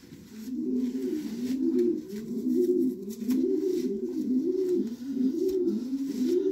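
Racing pigeons coo in repeated low, rolling phrases, steady and fairly close, one bird's call overlapping another's with no speech.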